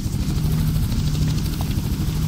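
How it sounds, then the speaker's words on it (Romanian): A helicopter in the video game Just Cause gives a steady, loud rotor and engine drone throughout, with a constant low hum and no speech over it. "elicopterul ăla ne ajută în suport aerian, ne oferă suport aerian"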